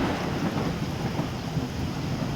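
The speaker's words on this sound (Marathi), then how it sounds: "खूप पाऊस पडतोय बघा पाणी पाणी झालं" Dense, steady roar of heavy rain pouring down, continuous and loud without pauses.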